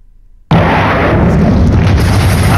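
A big laser detonator blast in a video game hits suddenly after a short silence, a loud sustained roaring explosion that rumbles on without fading.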